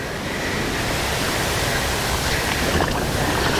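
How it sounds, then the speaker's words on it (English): Ocean waves break on a beach during surf fishing, giving a steady, loud roar of surf and wash that stays even throughout with no voices. "I'll wait till this wave passes"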